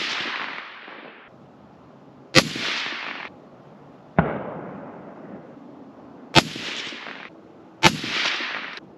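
Four sharp, loud precision rifle shots from a Ruger or Savage 110 fired at a target outdoors, each a crisp crack followed by a long decaying echo, spaced a couple of seconds apart with no talking.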